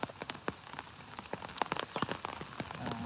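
Raindrops patter irregularly on a nearby surface in a village, with scattered sharp taps over a soft, steady wash of falling rain.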